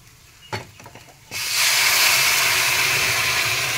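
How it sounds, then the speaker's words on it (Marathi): Hot water is poured into a pan of sizzling peanut amti for a fasting meal, a few light clinks first, then a sudden loud, steady hiss of steam and sizzle that holds to the end. "त्याच्यानंतर मी गरम पाणी ठेवलं"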